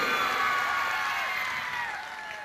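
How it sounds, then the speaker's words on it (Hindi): A celebration crowd at a stage show honouring a singer bursts into applause and cheering, a dense wash of clapping and whoops that slowly fades over a couple of seconds. "जोरदार तालियां एक बार फिर से।"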